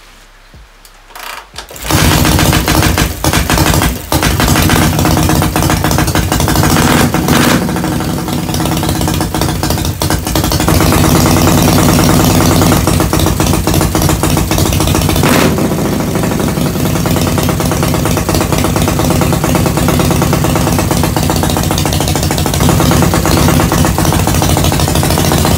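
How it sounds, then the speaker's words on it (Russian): A rusty custom motorcycle engine runs steadily at close range during tuning after a brief quiet start, a continuous loud idling drone with slight shifts in pitch. "то хотя бы отрегулируем мотор"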